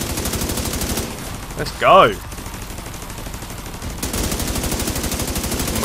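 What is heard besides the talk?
automated turret firing in The Division 2 video game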